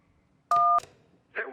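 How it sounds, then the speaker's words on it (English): Underwater phone ringing from the game Kentucky Route Zero: a single short, bright two-tone ring burst, warbled and watery, then a brief murky bubbling swell shortly after. No voices. "That was a phone ringing underwater."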